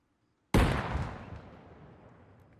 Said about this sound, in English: let's go ahead and start with a small explosion